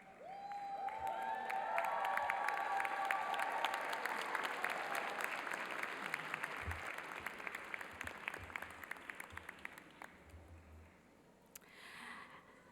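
Graduates on their feet give their guests a sustained round of applause at a school recognition ceremony, loud and dense at first, then thinning into scattered claps before fading.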